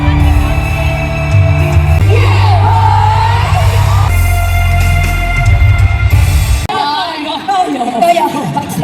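A crowd at a concert whoops and yells loudly and continuously, mixed with amplified music and voices, with a sudden shift in the din near the end.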